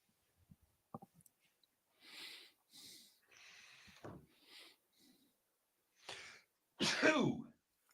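Sneezes and throat noises burst out in a talk radio studio, a short sharp one near the start and louder explosive bursts toward the end, between quieter sniffs and breathy sounds.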